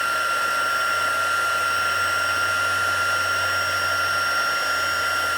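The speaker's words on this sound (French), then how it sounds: "Fait que ça va pour l'embossage à chaud." A heat embossing tool blows a steady, loud, whirring hiss as it melts embossing powder on card. The sound runs constantly without a break, like a hair dryer, and no one talks over it.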